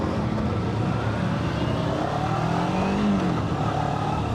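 A small motorcycle engine runs close by, holding a loud, continuous drone whose pitch rises and falls as it is revved.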